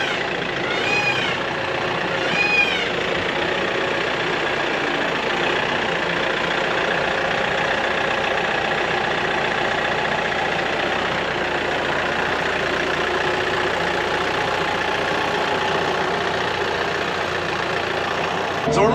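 A farm tractor engine idles with a steady, even rumble throughout, with a couple of brief squeaks near the start.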